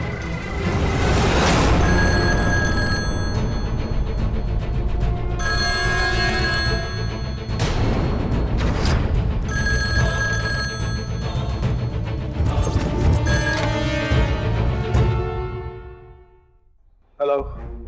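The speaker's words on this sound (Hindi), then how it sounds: "हेलो मिस्टर भाटिया, आप मुझे बार बार फोन करके परेशान क्यों कर रहे हैं?" A telephone bell rings loudly in repeated bursts through a scene from a Hindi TV drama, with a brief drop near the end.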